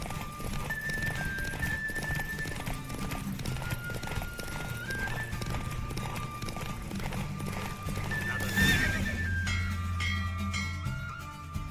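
Horse hooves clip-clop at a rapid gallop with whinnies and neighs during a horse race in the video game The Witcher 3, steady hoofbeats under a musical score with a brief louder burst near the end.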